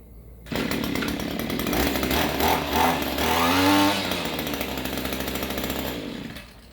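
A weed eater's two-stroke engine runs loud and close, buzzing hard with a rising rev in the middle before settling back and cutting off at the end.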